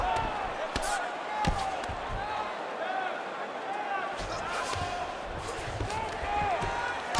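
Crowd at a UFC 5 video game fight breaks into a broad, continuous roar of appreciation, mixed with scattered sharp impacts, while commentators talk over it throughout.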